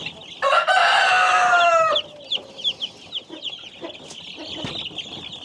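German Australorp chickens: a rooster lets out one loud, drawn-out crow up close, followed by a string of short clucks and faint high chick peeps continuing in the background.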